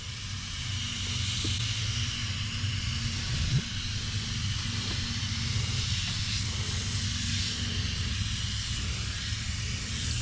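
Bargain carpet cleaner sprays steadily onto the carpet of an abandoned Ford Powerstroke diesel truck to soak it, a continuous close hiss lasting throughout over a low background hum.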